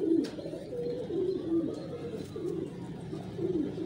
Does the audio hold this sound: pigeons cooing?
yes